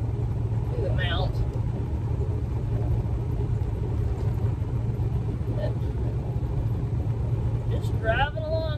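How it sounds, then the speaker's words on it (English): A moving truck's vibration, picked up through a camera mount, makes a constant low rumble throughout, with a voice speaking briefly over it near the start and again at the end. "it tends to pick up all the vibrations of the truck through the mount"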